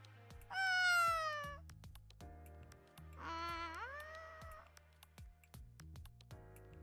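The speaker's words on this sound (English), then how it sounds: "it's got to be the cat Mutakasa-san was talking about." A cat in the visual novel game Riddle Joker gives two long, clear meows, the second rising and wavering, over a quiet looping music bed with a short third call starting at the end.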